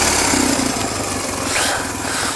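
A carbureted motorcycle engine runs steadily at idle outdoors in winter, a loud, close, continuous mechanical drone with no talking over it.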